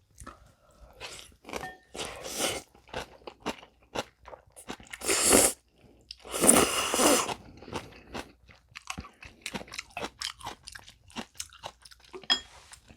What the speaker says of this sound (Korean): 딸기 비빔면 한번 먹어봤습니다